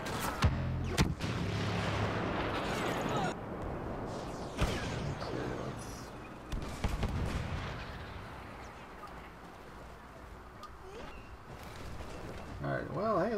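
Incoming missiles explode in Star Wars Battlefront, heavy booms and blasts hitting in clusters amid gunfire, with a player talking throughout.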